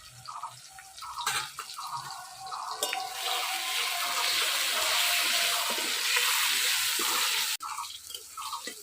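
Potatoes frying in hot oil seasoned with cumin seeds, a steady close crackle and sizzle that holds throughout, with a few clinks of a utensil in the pan.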